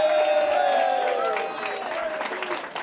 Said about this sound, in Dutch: graag een applaus daarvoor